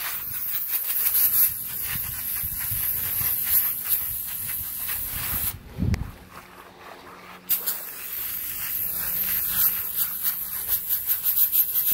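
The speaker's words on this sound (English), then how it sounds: "I'm gonna brush the areas I think is the most dirtiest with this brush right here" A toilet brush's bristles rubbing and scrubbing against the metal fins of home AC coils sprayed with cleaner, a steady rasping scrape with a brief pause midway before the rhythmic scrubbing resumes.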